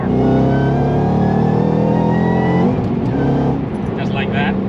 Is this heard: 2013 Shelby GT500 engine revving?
yes